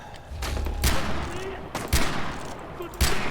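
Gunfire in the video game Far Cry 4: three sharp, loud shots spaced about a second apart, each cracking out over a low rumbling game background.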